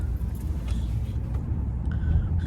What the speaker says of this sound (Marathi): गाडी कितीच्या स्पीडने आहे बघा